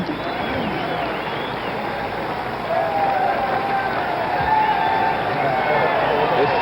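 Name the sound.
political rally crowd cheering after Dixie was played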